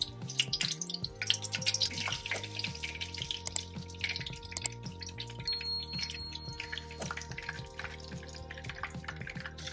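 Noodlefish fritter batter frying in a pan, a quiet, steady sizzle with scattered small pops and spits under a faint background hum.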